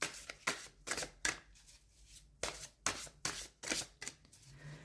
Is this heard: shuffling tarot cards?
yes